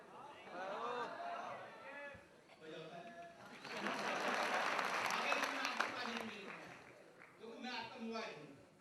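Applause from a comedy show audience, a swell of clapping in the middle of the clip with someone talking loudly before and after it.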